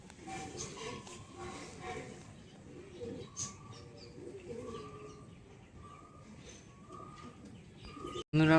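Pigeons coo softly in repeated low, rolling calls over faint background noise, ending with a sudden loud knock.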